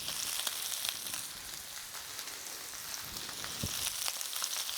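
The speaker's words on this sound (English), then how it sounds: "Like kind of frying a bit of lettuce." Lettuce sizzles and crackles steadily in a hot pan, a close, bright hiss with scattered pops.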